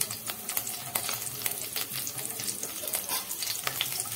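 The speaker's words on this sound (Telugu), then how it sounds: "ఇందులోనే ఆనియన్ వేసి వేయించుకోండి" Onion and urad dal fry in oil in a pan, a close, steady sizzle with scattered crackles and pops, fairly quiet and continuous with no voices.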